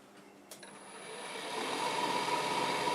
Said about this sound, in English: That's the extra noise you're hearing there, those wheels spinning.